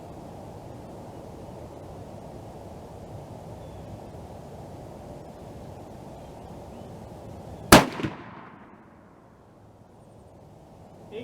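A single sharp, loud shot from a CVA Accura muzzleloader rifle, cast with a Lee 457 450F bullet, cracks out of a quiet background hiss and trails off in a short echoing decay.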